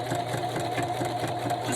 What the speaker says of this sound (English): I'm just going to do a straight stitch right down the middle of the spine